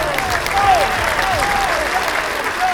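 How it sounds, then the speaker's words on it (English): Crowd applause used as a sound effect in a spoken narration, a steady wash of clapping throughout at a constant level, with faint whistle-like tones gliding over it. "The crowd erupted in applause"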